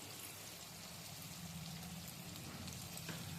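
Red chillies sizzle and crackle steadily in hot oil while being stirred for a chilli pickle. A continuous, fairly soft frying hiss carries on unbroken throughout.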